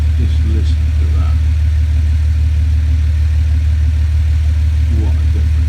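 An Audi A8L with its muffler removed and a straight-through exhaust fitted after the catalytic converter idles close by, producing a deep, steady, continuous drone.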